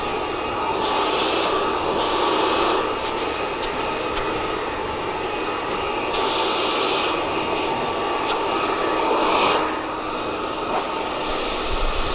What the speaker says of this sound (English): So I'm blow drying with my flat brush so that I end up with no root lift